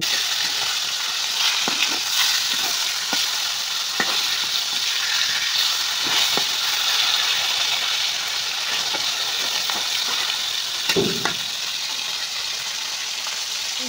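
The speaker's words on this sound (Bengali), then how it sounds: "এখন একটা খুন্তি দিয়ে মাছগুলির উল্টা পাল্টা ভালোভাবে ভেজে নেওয়া হইতেছে" Pangas fish pieces fry in hot oil in a pan over a clay stove, a loud continuous sizzle and hiss up close, with occasional scrapes and taps as a spatula turns the pieces.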